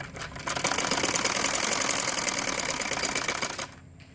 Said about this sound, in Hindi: अभी उसी फोल्ड किए हुए गले को मैं यहाँ से सिलाई लगाना स्टार्ट करूँगी